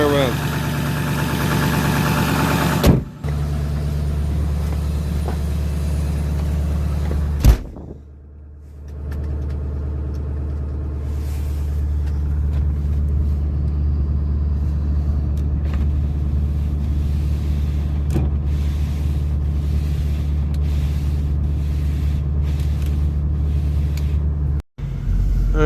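A diesel truck engine idles while warming up on a winter day, a steady low rumble that runs close and constant for most of the stretch, with a few brief dropouts and shifts in tone.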